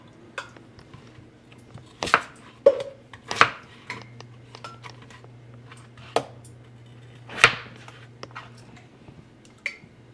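A knife chops potatoes on a cutting board in a home kitchen, sharp irregular knocks landing a second or two apart, loud and close over a low steady hum, with no talking.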